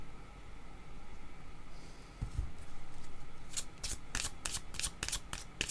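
Tarot cards shuffled and drawn, a quiet hiss first and then a quick run of sharp close riffling flicks in the second half, with no talk.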